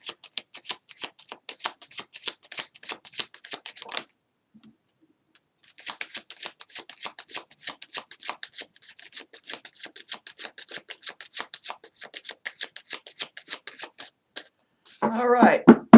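Tarot cards shuffled by hand in repeated quick riffling bursts, close and crisp, with a pause partway through before the shuffling resumes; a brief voice and handling noise come at the end.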